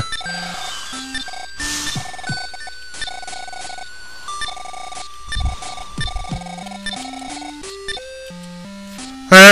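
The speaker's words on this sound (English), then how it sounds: "There's a phone." Chiptune tones from the video game Earthbound Zero include a telephone ringing in bright, repeating electronic bleeps. The ring is mixed with stepped melodic game music, loud and clear, ending in a brief burst of noise.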